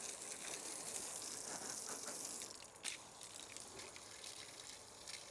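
Water gushes and splashes onto a freshly cut silver maple slab at an electric sawmill, a soft steady pour heard faintly with a brief splash partway through.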